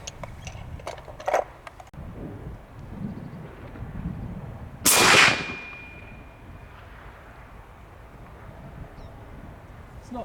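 A single sharp, loud .50 cal BMG rifle blast cracks out midway and rings off into a fading echo, with scattered quieter knocks and wind noise outdoors at a 100-metre range before it.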